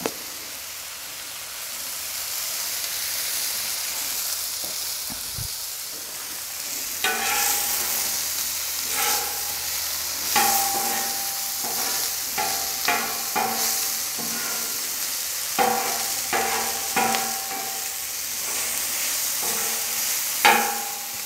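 Oil sizzling and frying on a Camp Chef FTG600 flat-top griddle, with a steady broadband hiss and sharp crackles and pops that grow busier partway through, close and fairly loud, with no talking.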